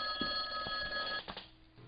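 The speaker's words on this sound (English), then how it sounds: "Is that a phone ring?" A telephone rings in a short electronic trill that cuts off abruptly, close and moderately loud with no voices over it.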